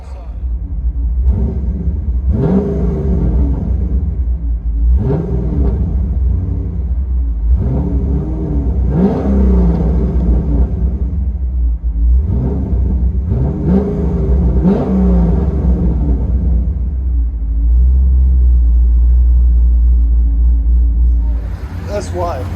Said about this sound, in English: Pontiac G8 with a cam and long tube headers, fully straight pipe.